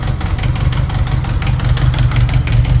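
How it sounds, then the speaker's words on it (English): A motorcycle engine idles loud and close on a cold start, with a steady, rapid mechanical ticking running over its low, even rumble. "It's got a lot of ticking noise going on there."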